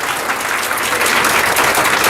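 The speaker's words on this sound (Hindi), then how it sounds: "मैं चाहूँगा कि एक बार सर के लिए ज़ोरदार ताली लगाएं" Applause at a school farewell program, a hall full of people clapping loudly and steadily in dense, continuous applause with no pauses.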